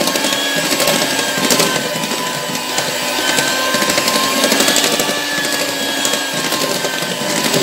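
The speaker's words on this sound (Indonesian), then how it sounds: "ini dimixer kembali sampai tercampur lagi" An electric mixer churns cassava cake batter with flour and baking powder, a continuous loud whirring and grinding hum with rough, scraping texture that holds steady throughout, close up, with no talking.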